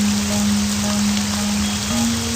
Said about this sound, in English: Looks like the rain will continue this evening